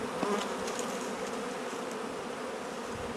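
Bees buzzing steadily around the hive boxes of a small rescued mini swarm, a dense close hum that holds throughout without pause.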